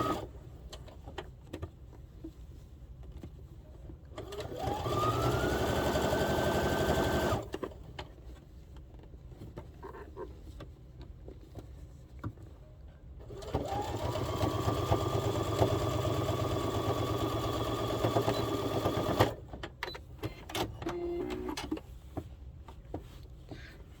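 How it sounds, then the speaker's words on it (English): Sewing machine top stitching a slip-through neck scarf: two steady mechanical whirring runs of a few seconds each, separated by a quieter pause, fairly soft and close. "I'm going to just do a little top stitching."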